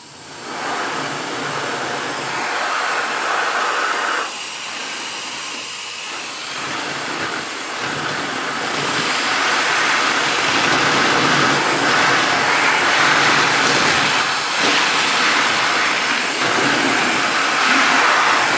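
A Jet Dryer blower air duster fitted with a focus nozzle blows continuously, a loud close rushing whoosh that dips slightly early on, then strengthens and holds steady to the end.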